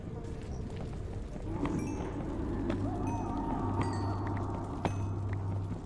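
Horse hooves clip-clop in a video game, a soft, uneven run of light thuds set within a dense bed of game noise, with occasional sharper clicks.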